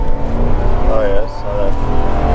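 A 2008 Ford Crown Victoria P-71 Police Interceptor accelerates hard from inside the cabin, its engine droning loud and rising in pitch. Voices talk over it.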